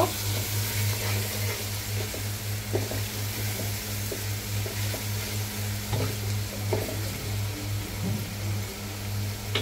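Onions fry in a pan of oil for a duck bhuna, producing a constant close sizzle over a low steady hum, with occasional soft stirring knocks.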